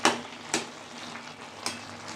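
Mixed vegetables frying in a little oil, a steady soft sizzle broken by a few sharp stirring scrapes of a spatula against the pan, close and without talk.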